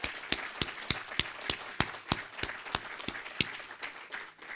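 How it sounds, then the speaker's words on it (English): Audience applause at a connected mobility workshop plugfest, a modest crowd clapping with several sharp, loud claps standing out in a fairly regular rhythm above softer scattered clapping. "Let's big hand of applause for Murillo and for the team."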